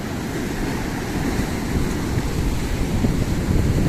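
Sea waves and wind at the shore in Kund Malir, Balochistan: a continuous broad roar of surf with gusting wind buffeting the microphone, loud and steady, no voices.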